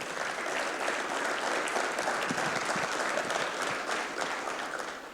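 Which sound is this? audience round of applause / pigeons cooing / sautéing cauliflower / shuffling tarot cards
audience round of applause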